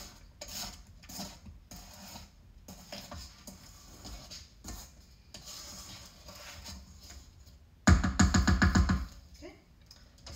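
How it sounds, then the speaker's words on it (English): A spatula scrapes around the sides of a mixing bowl of pound cake batter, giving repeated rough rasping strokes that build to a loud burst of quick scrapes near the end. "So I'm just gonna scrape the sides down really good."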